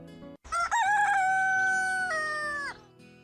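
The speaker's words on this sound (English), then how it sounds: "we progress this through rooster crowing" A rooster crows once in the farming video game Axes and Acres, a long, loud, drawn-out cock-a-doodle-doo with a rising start and a sustained, wavering tone, heard alone over quiet game music.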